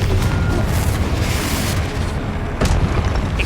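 Confringo explosive spell blasts in Hogwarts Legacy, a sustained loud booming rumble with a sharp fresh impact late on, deep and close, unbroken by talk.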